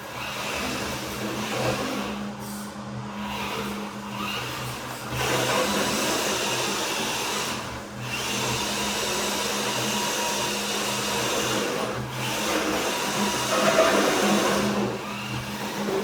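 A CEN F450 RC truck drives with a small 550-size brushed motor powering all four wheels through a center transmission. Its electric whine is steady and continuous, rising and dipping in brief surges as it runs.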